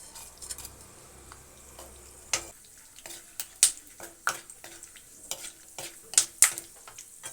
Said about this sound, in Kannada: ಇವಾಗ ಕಲ್ಲಂಗಡಿ ಹಣ್ಣಿನ ಬೀಜ ಹಾಕ್ಕೊತಾ ಇದ್ದೀನಿ.